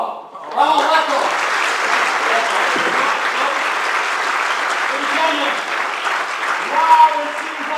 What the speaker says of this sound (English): Really a warm applause for Ramon de Leon, RamonWOW.